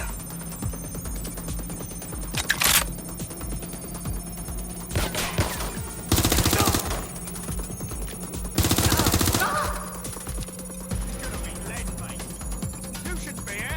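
Gunfire in the video game Watch Dogs Legion, with several loud bursts of rapid machine-gun fire breaking through a steady background hum, and voices talking between the volleys.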